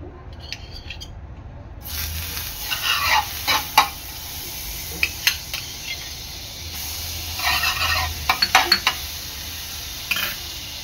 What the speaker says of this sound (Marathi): आता ही मी शॅलो फ्राय करून घेणार आहे तव्यावर